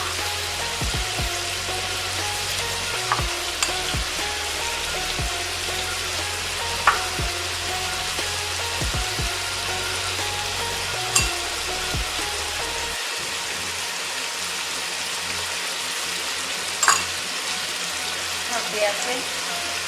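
Tomato halves frying in a Peshawari charsi chicken karahi, giving a steady broadband sizzle with occasional faint clinks and pops, close and fairly even throughout, no talk.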